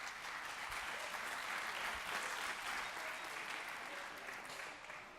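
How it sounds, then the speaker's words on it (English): An audience at a technology conference gives a speaker from Coinbase a sustained round of applause: a steady, dense wash of many clapping hands heard from within the hall, easing slightly at the end. "Let's give a big round of applause for Burkay Gur from Coinbase."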